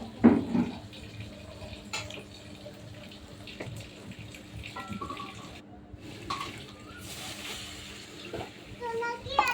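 Water pours from a tap or jug into a pan of ground turmeric, chili, coriander and cumin for a home chicken curry, a steady splashing run lasting several seconds with kitchen clatter and faint voices in the background.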